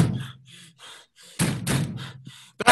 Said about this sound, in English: Loud knocking on the door.